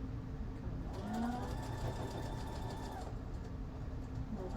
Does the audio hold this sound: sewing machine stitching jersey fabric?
yes